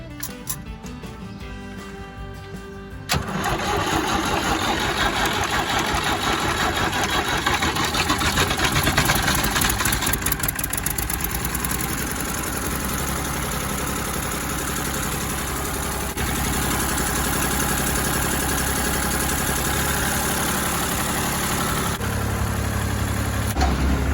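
Tractor engine cranked over and caught, settling into a steady, loud mid-pitched idle that runs throughout after a brief cranking start.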